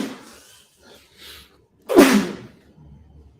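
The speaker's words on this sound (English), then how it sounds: "Oh, I got to sneeze." A single loud, close sneeze bursts out after a few quiet seconds, preceded by faint breathy sounds and fading into soft room noise.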